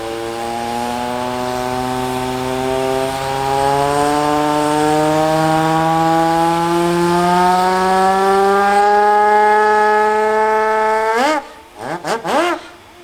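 A loud steam siren at a steam rally wails continuously, its pitch slowly rising over many seconds before cutting off into a few short, sharp blasts.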